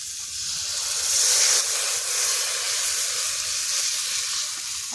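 Water hits fried masala in a hot pan, giving a loud steamy hiss that rises sharply after a second, then settles into a softer continuous sizzle with no voices.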